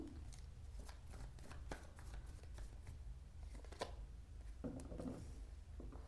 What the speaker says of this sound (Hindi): सो कार्ड्स निकालते हैं हम